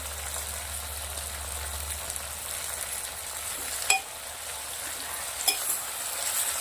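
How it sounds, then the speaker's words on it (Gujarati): Whole cluster beans and garlic cloves sauté in oil for a Kathiawadi-style vegetable dish, making a continuous even sizzle close by, with two brief sharp clicks from a utensil. "તેલના અંદર આપણે આને 5 મિનિટ સુધી સાંતળી લેવાની છે"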